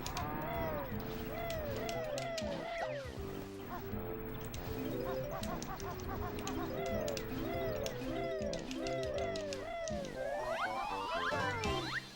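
Game music with a bird call in Banjo-Kazooie, the feeding scene near a tree and beehive; bright chirping, warbling tones repeat steadily over a dense, continuous musical backing throughout, fairly loud and close.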